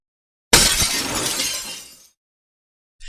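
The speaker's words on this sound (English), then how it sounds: "Sounds of more broken glass." Glass shattering in a single loud crash with debris tumbling and settling for about a second and a half, then silence and a faint brief tinkle at the end; part of a storybook scene with a rabbit.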